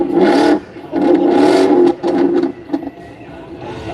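A manual Ford Mustang Heritage at a motor show revving in short bursts: two long, loud throttle blips, then a couple of quicker, shorter revs settling toward idle, close up.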